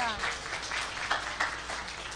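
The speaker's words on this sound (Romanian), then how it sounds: "Aplauze!" Audience applause at a restaurant gathering, a soft wash of clapping from a crowd, fairly distant and low in level, with a voice briefly speaking over it.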